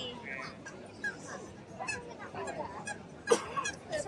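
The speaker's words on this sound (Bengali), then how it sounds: "এখানে পাখিগুলো মানুষের খুব কাছে চলে আসে।" Geese honk close by among a crowd of people at a busy waterside market, with sharp calls breaking through steady chatter and footsteps, one louder honk standing out near the end.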